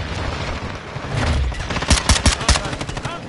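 In a multiplayer shooter game, a rumble of battle noise gives way to four or five sharp, heavy shotgun blasts fired in quick succession at close range.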